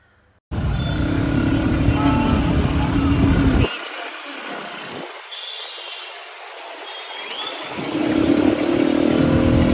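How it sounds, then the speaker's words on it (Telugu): A motorbike carrying two riders travels through the evening, its engine droning loudly and close with a constant road rush; the engine note drops for a stretch mid-ride, then rises again. "ఇంకా నేను పావని బైక్ మీద అయితే స్టార్ట్ అయ్యామన్నమాట."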